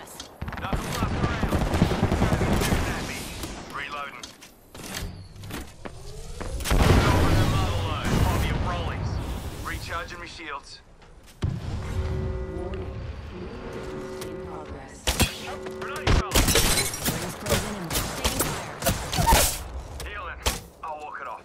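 Video game gunfire crackles in repeated bursts of rapid shots with heavy booms, broken by short lulls, with voices speaking between and over the shooting.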